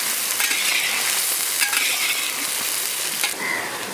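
Onion frying in hot oil with cumin seeds and bay leaf during village cooking of stingray fish, a loud, dense, continuous sizzle with a few stirring scrapes and no voices.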